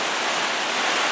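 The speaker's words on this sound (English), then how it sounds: "I walked out into the Marble Creek just a little ways into the stream, into the current" Steady, loud rushing of Marble Creek's current close by, a dense unbroken wash of flowing water with no voices.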